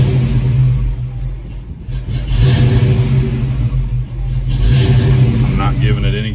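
A hot Foxbody Mustang engine idles loud and close, its rumble rising and falling as the idle surges. A voice talks over part of the engine noise.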